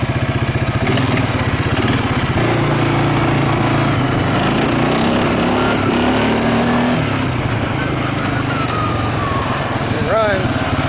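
A small engine runs steadily and loudly after starting, a constant close-up drone with shifting pitch, while a person talks over it.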